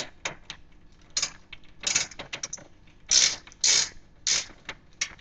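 Screws being worked loose from a computer case fan during a home office PC build, a series of close mechanical creaks and ratcheting clicks in irregular bursts, with no talking.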